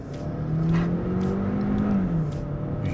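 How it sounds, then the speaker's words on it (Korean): A Hyundai Santa Fe SUV's gasoline engine revs hard and holds at 5,000–6,000 rpm, its droning pitch climbing then dropping slightly, heard from inside the vehicle with no talking. "이 5천에서 6천 갈 때 엔진 소리는 방음 아예 안 된 차 그런 느낌."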